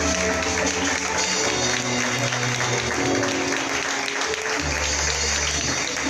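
An audience at a church conference plenary breaks into sustained, dense applause to welcome a prophet to the stage, loud and unbroken for several seconds with a faint murmur underneath.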